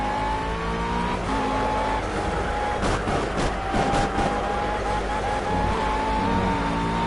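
A GT3 race car slides and gets loose over a curb at Laguna Seca in a racing game, its engine droning steadily while tires squeal and scrub in bursts, with other cars audible around it.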